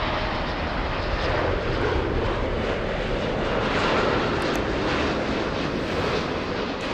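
A Virgin Atlantic airliner arriving at LAX from London Heathrow produces a loud, sustained jet engine roar that holds steady throughout, heard from the ground outdoors.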